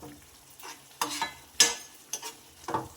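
Tempering mixture stirred and cooked in ghee in a home kitchen, heard as a few separate scraping stir strokes with a soft sizzle underneath, moderately close and fairly quiet, no talking.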